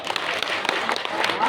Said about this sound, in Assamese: এটা হাত চাপৰি দিব লাগে